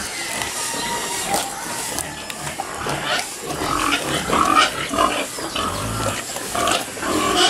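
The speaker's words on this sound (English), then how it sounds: "The old restless sow here was prancing around a little bit" A restless sow pig grunts and snuffles close by, with irregular oinks and rustling movement over a background of faint hiss and a little talking.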